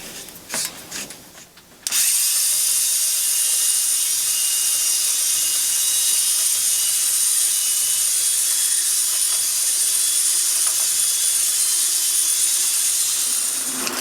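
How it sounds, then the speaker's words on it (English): A power drill with a mixing attachment spins up after a few seconds of handling noise, then whirs steadily and loudly up close, churning beer wort for the rest of the clip. "I'm going to aerate the wort using this drill attachment."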